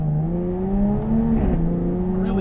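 A Jaguar F-Type V6S coupe with a ZF gearbox accelerates hard, its engine note climbing through gears with quick, smooth shifts marked by brief pitch drops, loud and close with no talk.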